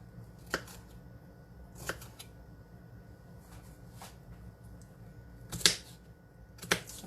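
A knife chops raw chicken into bite-sized pieces on a board, giving a few sparse, sharp cuts spaced several seconds apart against quiet kitchen background.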